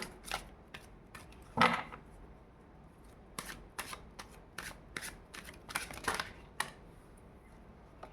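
Tarot cards shuffled by hand at close range, a series of quick riffling bursts and soft card slaps in irregular rhythm over a quiet room.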